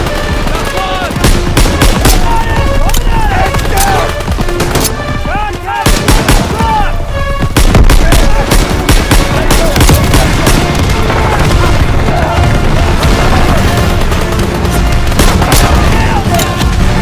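Dense gunfire and machine-gun fire from the Call of Duty WWII battle at Hill 493, with rapid bursts and heavy booms running nonstop and loud throughout, while voices shout over the combat.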